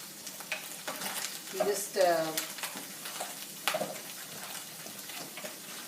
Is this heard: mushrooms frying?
yes